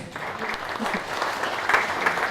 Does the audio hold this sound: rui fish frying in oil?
no